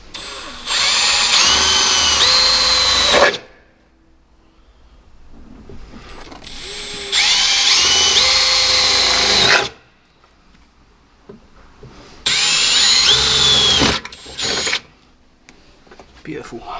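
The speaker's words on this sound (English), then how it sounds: "Just drilling holes." A power drill whines loudly in three long bursts of a few seconds each, drilling holes during a track car build, close by, with quieter pauses between runs.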